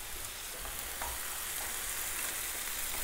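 Tomatoes sautéing in a pan for a Chettinad-style quail egg thokku, giving a steady, close sizzle with faint scraping stir sounds throughout.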